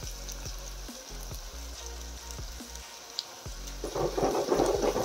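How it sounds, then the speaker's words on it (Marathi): Red chili powder, salt and masala sizzle in a hot pan for a vegetable dish, with soft crackles and pops that swell into a louder, hissing fry toward the end. "मस्त फ्राय व्हायला लागलेला आहे"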